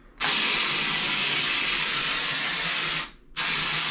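A loud, steady rushing hiss of an IK Foam Pro 2+ foam sprayer blasting water, cutting out briefly near the end before starting again, close and continuous.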